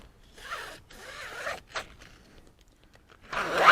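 Cutting around the upper door skin of an old Jeep Wrangler, a few rough ripping and scraping bursts separated by short pauses, close and moderately loud.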